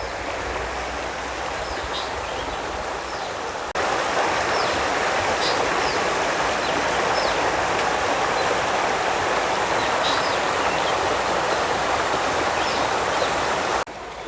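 A stream flows through a Northern Cape town, a steady close rush of water that swells louder partway through and holds there, with faint bird chirps above it and no talk.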